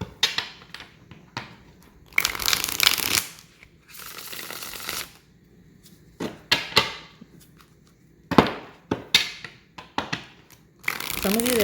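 Tarot cards being shuffled make repeated riffling and slapping bursts, close and crisp, separated by short quiet gaps, with a voice speaking softly between them.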